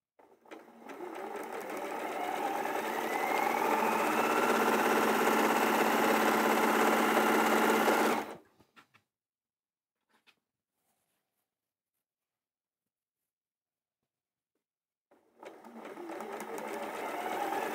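A sewing machine stitches fabric wedges together for a half Dresden, running in a steady, close, continuous whir for about eight seconds, then stopping, with a short silence before it starts again.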